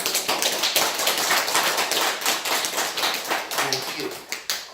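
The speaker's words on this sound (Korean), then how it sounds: "그렇게 말하니까 박수를 치네요." A congregation at a religious service claps together during a sermon, a dense, fairly close patter of many hands that swells and ebbs in short waves across the whole stretch.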